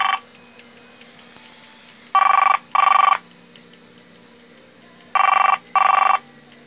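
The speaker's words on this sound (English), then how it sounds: "so you should hear it ring" Analog TACS cell phone ringing when paged by a Marconi 2955 test set, two pairs of short electronic trill bursts separated by a pause, clear and close in a quiet room.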